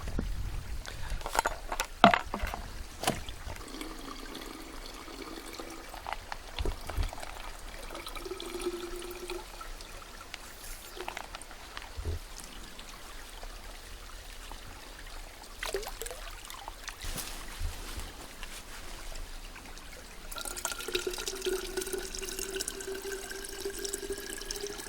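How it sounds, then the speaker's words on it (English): Water from a mountain runoff stream gurgles and trickles into a bottle as it fills, a steady close splashing flow that brightens and rises in pitch toward the end. "let me fill up your water bottle"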